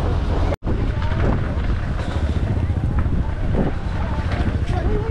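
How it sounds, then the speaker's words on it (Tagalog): Strong wind at sea buffeting the microphone on a boat, a loud steady roar with rumbling gusts and water noise throughout. "malakas na yung hangin"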